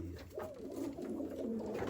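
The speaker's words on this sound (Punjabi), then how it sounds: "ਇਹ ਗਲਵਿਆਂ ਕਬੂਤਰਾਂ ਦੇ ਵਿੱਚੋਂ ਇੰਡੀਅਨ ਗਲਵਿਆਂ" Indian galwa pigeons coo nearby in soft, low, rolling calls that repeat and overlap. Each burst swells and fades over a quiet background, with no speech.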